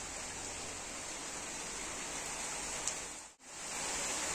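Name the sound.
rain falling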